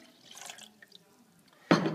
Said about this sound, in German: deswegen erstmal Wasser hier rein, Zimmertemperatur.